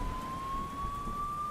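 A police car siren wails steadily and loudly, a continuous high tone held throughout with a low rumbling background underneath.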